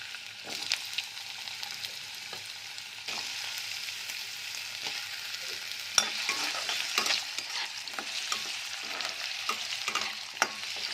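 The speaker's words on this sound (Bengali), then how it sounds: "তেল আমার গরম হয়ে গিয়েছে, এবার আমি আলুটা ছেড়ে দেব ভাজবার জন্য" Potatoes go into hot oil and fry with a continuous medium sizzle. Frequent sharp clicks and scrapes from a utensil stirring the pan punctuate the sizzle, and it grows slightly busier later on.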